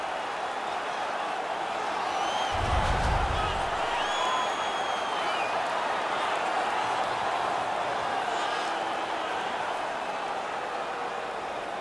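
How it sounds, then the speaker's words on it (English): Steady roar of a cheering home crowd filling a hockey arena in the NHL 17 video game, a continuous wash of noise with a dull thump early on and a commentator's voice faintly beneath. "The home crowd is ecstatic."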